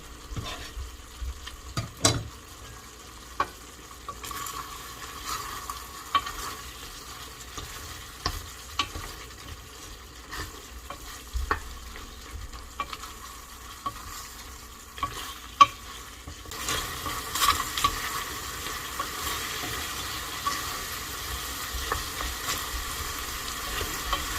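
Green onions are stir-fried with dakgalbi chicken in a pan: a continuous soft sizzle with intermittent utensil scrapes and taps, growing a bit louder and hissier toward the end.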